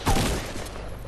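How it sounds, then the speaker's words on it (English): A rocket launcher fires in the battle royale game Fortnite: one sharp blast at the start, then a rumbling decay that fades over the next second, with no talk over it. "he shot me with a rocket launcher"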